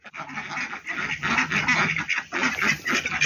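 A flock of ducks waiting to be fed quacks constantly and noisily, many calls overlapping, close and busy with no pauses.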